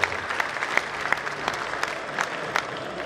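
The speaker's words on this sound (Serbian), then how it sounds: "zaslužili su jedan veliki aplauz" An audience applauds at a first Serbian Oscar awards ceremony, a full crowd clapping in a steady roar with a few sharper, louder claps standing out every half second or so.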